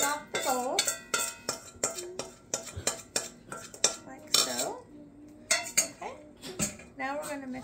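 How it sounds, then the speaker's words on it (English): A utensil scrapes spiced ham mixture off the sides of a bowl, producing a rapid series of close, loud metallic clinks and scrapes in an uneven rhythm. "So I'm going to scrape off as much of it as you can get off the bowl."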